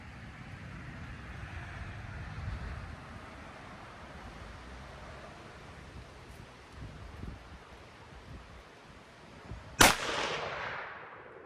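A single sharp, loud rifle shot from a .350 Legend firing a high-velocity test load cracks out near the end, with a quick fading tail, after a stretch of wind and rustling outdoors.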